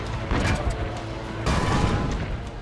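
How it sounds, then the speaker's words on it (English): Cannon fire during a villa siege in the video game Assassin's Creed Brotherhood, with dense, rumbling booms and crackling blasts in two surges over continuous battle noise. "Load the cannon. Destroy their cannons, Signore!"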